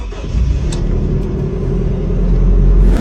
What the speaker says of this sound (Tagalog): 1RZ engine